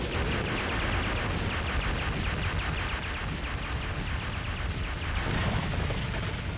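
A building collapsing inwards in a Dragon Ball Super anime scene: a dense, continuous rumbling crash of debris with rolling booms, loud and unbroken throughout, with no talking.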